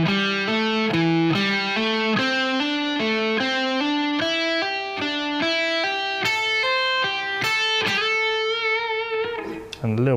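An electric guitar plays a five-note grouping lick slowly, with hammer-ons linking the notes. Each note sounds clearly and evenly with a slightly driven tone, and the phrase climbs in pitch.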